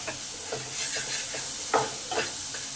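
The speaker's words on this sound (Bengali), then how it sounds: "এবার এই তেলের মধ্যে ভালো করে মশলাগুলোকে কষে নিতে হবে।" Ginger, garlic and onion paste frying slowly in oil, a constant steam-like hiss with intermittent spoon strokes scraping through the paste, close up, no talk.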